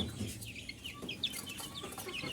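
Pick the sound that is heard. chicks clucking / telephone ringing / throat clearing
chicks clucking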